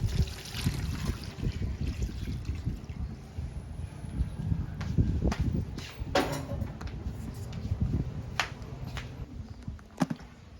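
Aloe vera cuttings washed under running water, a steady trickling splash with occasional sharper clicks and knocks as the leaves are handled, moderately close and fairly quiet.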